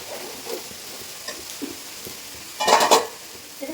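Meat is stirred and sautéed in a pan over a low gas flame, a soft sizzle with light utensil scrapes and a louder burst of stirring and clatter near the end.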